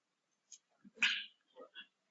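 A single sneeze bursts out in a quiet classroom during a law lecture, short and sharp at moderate distance, with faint brief vocal sounds around it.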